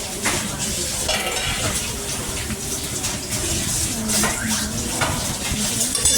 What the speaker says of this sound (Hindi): मैंने सारे बर्तन धुल रही हूँ